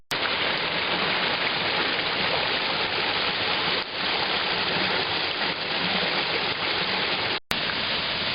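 Steady, dense rushing roar of the Zhenetskyi waterfall in Ukraine, continuous and close, with no voices.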